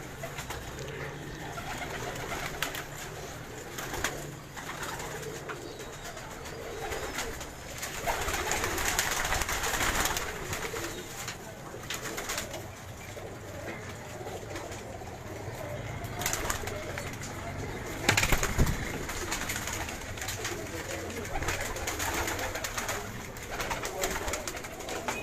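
High-flyer pigeons coo steadily through a busy outdoor scene in Karachi, their soft calls mixed with background bustle and occasional louder bursts.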